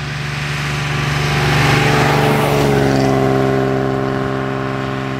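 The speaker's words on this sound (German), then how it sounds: "Auto hat Sound wie alle Vorkriegsautos." A 1939 BMW 327/28 Sport-Kabriolett with its six-cylinder engine drives along, a loud, steady engine hum that rises in pitch and swells slightly as it accelerates, with no talk.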